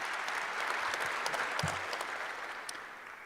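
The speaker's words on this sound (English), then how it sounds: "Give them a round of applause." A large crowd applauds at a football press conference in a dense, sustained wash of clapping that slowly tapers off toward the end.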